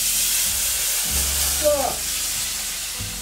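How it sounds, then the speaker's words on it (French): A hot pan is deglazed while cooking meat pie filling, giving a steady loud sizzling hiss over a low hum, with a brief vocal exclamation near the start. "On va le déglacer un petit peu."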